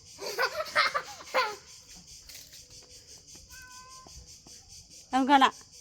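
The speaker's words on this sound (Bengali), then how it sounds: "দেখো এই একটা বিড়াল পেয়েছে" A cat gives a soft, short meow in a quiet moment, between bursts of a child's laughing and vocalizing.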